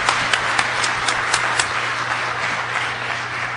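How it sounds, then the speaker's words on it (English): Audience applause at a conference's closing remarks, a short burst of clapping that is steady and moderately loud, with a faint hum underneath. "so a big round of applause for you."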